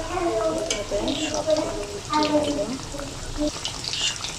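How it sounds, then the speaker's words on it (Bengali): Potato mini rolls frying in oil make a bubbling sizzle with scattered stirring and scraping sounds, close and fairly loud, with nobody speaking. "আমি এখন ধীরে ধীরে ভেজে নেব।"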